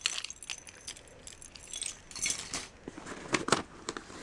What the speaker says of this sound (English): here are my keychains. And I have my house key on here.